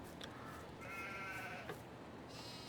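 Sheep bleating in the farming game Farming Simulator 22 on a beef and livestock farm in winter, a couple of short wavering bleats at moderate distance over a quiet ambient bed, with no talking.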